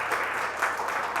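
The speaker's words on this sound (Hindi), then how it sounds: "जोरदार ताली से उस खुदावन यीशु मसीह को धन्यवाद करें।" A church congregation claps, a short burst of applause with a dense patter of hands at moderate loudness and no talk over it.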